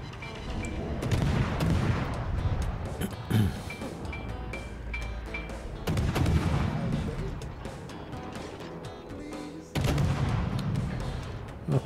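Naval gunfire from a World of Warships battle featuring the Akizuki destroyer: repeated booming salvos and rattling volleys at intervals over constant engine and sea rumble, loud and dense with no voices.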